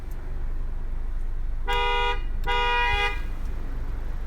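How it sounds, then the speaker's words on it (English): Horn of a 2018 Honda Accord Touring sounding two firm blasts, the second one longer, over steady background rumble and hiss. "So we're gonna listen for the horn."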